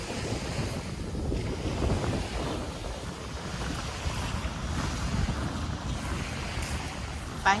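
Sea waves wash onto a beach shore under steady wind buffeting the microphone, a continuous rushing roar with no voices.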